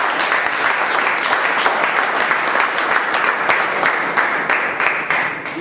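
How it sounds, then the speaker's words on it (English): Audience at a club meeting applauding steadily, a dense continuous wash of many hands clapping at even loudness throughout, with no voices over it. "I think we need to give him a big round of applause."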